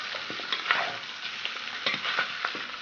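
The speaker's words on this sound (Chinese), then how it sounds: "我们先把排骨多炒一会儿，把上面的肥油往出来晾一下" Pork ribs stir-frying in a wok, a steady close sizzle of hot fat with repeated scraping and tossing strokes of a spatula, no voices.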